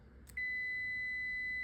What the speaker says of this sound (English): we have a beep, which means it is continuous